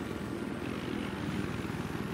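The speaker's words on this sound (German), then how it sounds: "gestohlenen Hubschrauber." Steady, rapid thumping of helicopter rotor blades in the video game Battlefield 3 with a low engine drone, continuous and fairly close, no voices.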